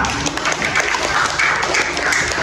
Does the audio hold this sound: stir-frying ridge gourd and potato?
no